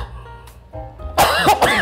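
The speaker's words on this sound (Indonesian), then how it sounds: "Batuk dikit guys." A person coughs a few times indoors in a house show unit with an attic, sharp and close, the bursts coming in quick succession after a quieter stretch.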